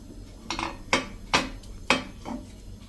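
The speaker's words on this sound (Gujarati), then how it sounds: "આપણે લોઢીને ગ્રીસ કરી લેશું આ રીતે તેલ મૂકી" A metal appam griddle (lodhi) is greased with oil on the stove, and about five crisp metallic clinks and taps ring out at uneven intervals, close by and with no speech.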